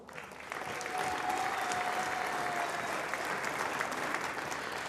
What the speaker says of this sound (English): a round of applause, please, from the World Snooker Tour Marketing Director, Tom Rowell